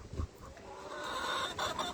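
Adult hens and twelve-week-old chicks outdoors on a blustery day, giving scattered soft clucks and chirps against steady wind noise, with one louder low bump near the start.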